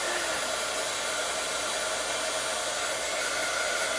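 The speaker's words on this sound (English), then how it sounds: "Then I'm going to just heat emboss this on there." A heat gun runs continuously while heat embossing a card, giving a steady, loud, even blowing hiss that stays constant from start to finish with no one speaking.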